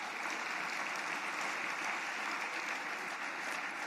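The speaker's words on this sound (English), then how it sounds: "Give yourselves a big round of applause." Sustained applause from the audience at the Republican Jewish Coalition Annual Leadership Summit, a dense, steady wash of many hands clapping at a distance, even in level throughout with no talk over it.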